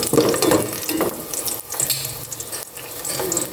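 Garlic fries in a pan in a home kitchen, a steady close sizzle with a spluttering, watery hiss that rises and dips.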